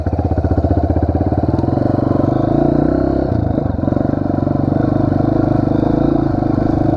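Small Pro Tork TR100F mini motorcycle engine running steadily on a dirt trail, a loud, close, continuous buzzing drone with slight throttle changes and some clatter midway, no talking.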